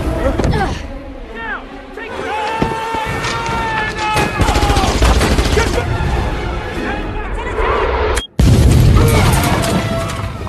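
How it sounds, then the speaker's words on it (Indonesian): In the film Salt, gunfire and explosions crash out in a chaotic burst of shots and booms against a tense movie score, while a narrator talks over it. "Schneider tiba-tiba berpamitan kepada Salt dan menembaki pengawal Presiden dengan barbar"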